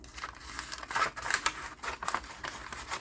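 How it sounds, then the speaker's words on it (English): Scissors snipping excess paper from the side of a handmade fall-themed mini journal, a run of quiet, crisp cuts and crinkles close to the mic. "I'm gonna cut off the excess on the side as well"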